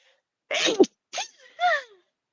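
A single close sneeze rings out in a quiet room, followed by short breathy vocal sounds.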